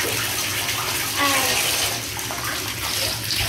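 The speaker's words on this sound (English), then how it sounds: "If you find that your ferret's very soapy, you can turn the water on again." Tap water runs steadily into a bath during a ferret rinse, a continuous close wash of splashing with a brief spoken word.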